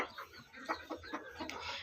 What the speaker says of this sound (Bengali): মুরগি একটা বসে আছে এখনো ডিম দিচ্ছে